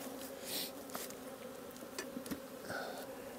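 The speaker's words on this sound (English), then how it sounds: "It's amazing how strong the bees are right here in the backyard." Honey bees buzzing around hives in a backyard, a steady dense drone with individual bees swelling louder as they pass close, no voices.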